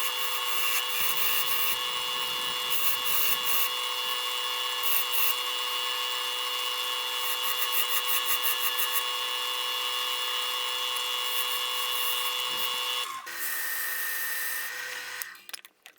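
Electric drill boring a recess into a wooden vice jaw with a template, a steady high whine with grinding bursts that runs for about thirteen seconds, then spins down and stops.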